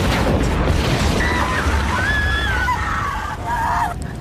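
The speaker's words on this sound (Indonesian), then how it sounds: "Anak buah Enishi yang telah kalah itu memutuskan untuk meledakkan dirinya di rumah Kapol Uramura" An anime explosion as a defeated henchman blows himself up at a police chief's house: a loud, sustained roaring blast with rumbling debris and shrill, scream-like tones rising over it, fading slightly near the end.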